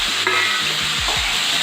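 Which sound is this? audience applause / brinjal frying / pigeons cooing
brinjal frying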